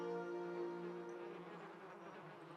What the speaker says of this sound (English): The only answer you hear is the buzzing of flies from the tree